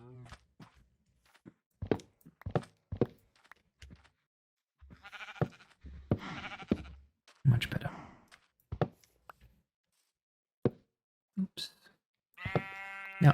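Sheep bleat on a Minecraft farm among scattered footsteps and thuds, with short bleats and a clear sustained bleat near the end, heard alongside a talking voice.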